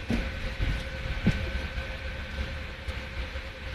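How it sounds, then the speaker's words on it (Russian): A passing steam train gives a steady, moderately distant rumble with rhythmic rail clatter and a few sharp clanks, with no talk over it. "Паровоз"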